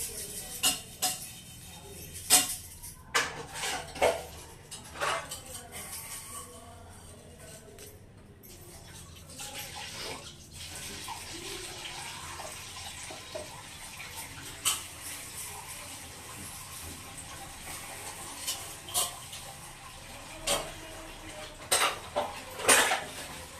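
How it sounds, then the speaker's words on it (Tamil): Steel pots, plates and cutlery are scrubbed and washed under running water in a home kitchen, with a steady trickle and splash punctuated by repeated close clanks and clinks of metal vessels. "அந்த பிள்ளை வந்து பாத்திரம் விளக்கிட்டு இருக்கு, அதனால உங்களுக்கு பாத்திரம் சவுண்ட் கேட்கும்"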